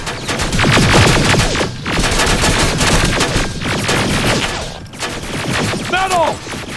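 Dense automatic gunfire and rapid shots rattle through a battle in the video game Terminator: Resistance, near and loud, with brief pauses and shouting voices mixed in.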